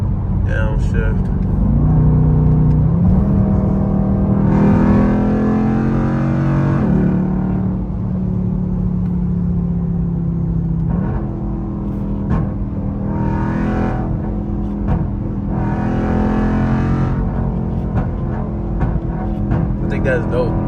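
Widebody Dodge Durango SRT engine revving hard on downshifts, a loud in-cabin roar with rising and falling pitch sweeps and repeated blips, exhaust drone throughout.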